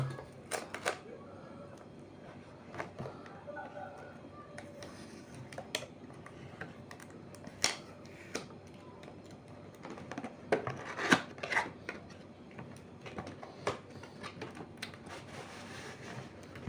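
Cardboard packaging of a Tetra HT 100 aquarium heater being opened, giving quiet scattered ticks, rustles and scrapes with a few sharper clicks around the middle, close up, with no talking.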